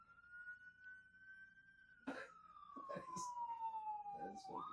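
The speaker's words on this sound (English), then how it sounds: "It's an ambulance. They're coming for me." An ambulance's wailing siren sweeps and slowly falls in pitch, loud and fairly close, with people's voices and a cough breaking in over it.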